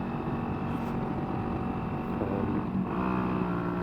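A Yamaha YBR 125 motorcycle fitted with a custom exhaust is held flat out in third gear while climbing a steep hill, its engine giving a steady, continuous drone with some wind noise.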